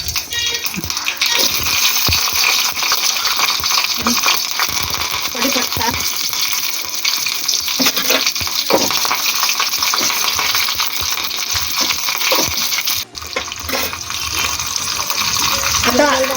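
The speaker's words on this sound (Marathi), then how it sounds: "आपण तेलामध्ये पाणी घालूया" Water poured into hot oil tempered with mustard seeds and cut green chillies, a loud sustained sizzle and bubbling with intermittent stirring knocks and scrapes, steady throughout apart from a brief dip near the end.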